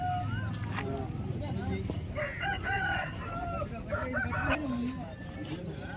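Country chickens at a Sunday market in Vijayawada crow and cluck repeatedly, clear rooster calls rising over a busy crowd with people talking throughout.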